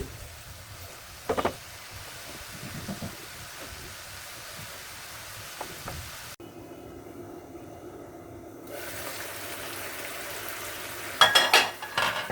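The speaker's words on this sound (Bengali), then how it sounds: "এ পর্যায়ে দেখছেন আমি পেঁয়াজটাকে নাড়াচাড়া করে নিচ্ছি।" Onions being stirred and fried in a pan for a Bangladeshi pabda fish bhuna, with soft scraping stir strokes over a low sizzle, a brief quiet pause midway, then clinking utensil sounds near the end.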